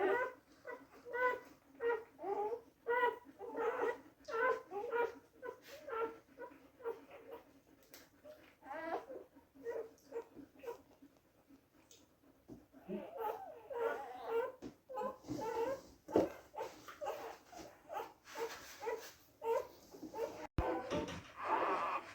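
A newborn puppy, the youngest of a freshly whelped litter, whimpers in a long run of thin, high, repeated cries, steady at first and then more broken, close and fairly soft.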